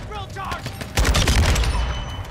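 Kastov 762 rifle fire in Modern Warfare 2: a rapid burst of loud automatic gunshots in the second half, with a voice talking before the shooting starts.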